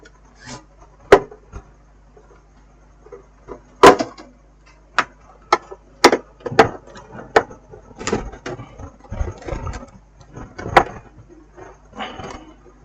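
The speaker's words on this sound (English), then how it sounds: "I need a screwdriver. Okay. So let's open and see why this inverter is like this." Someone works a screwdriver against the casing of a Super Star SI 300VA 12V DC to 220V AC inverter, making sparse sharp clicks and scrapes with quiet gaps between them.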